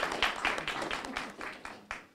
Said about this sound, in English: let's give them a round of applause for coming out here on this Sunday afternoon, holiday weekend.